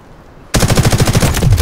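Automatic gunfire in the video game Delta Force: Hawk Ops, a loud sudden burst of rapid, evenly spaced shots kicking in after a near-silent start and continuing to the end.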